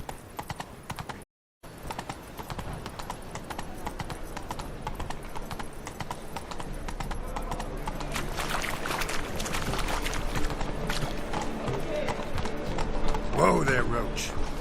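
Roach, the horse from The Witcher 3, gallops with rapid, steady clip-clop hoofbeats that grow louder toward the end, ending with a short whinny, after a brief silent gap near the start.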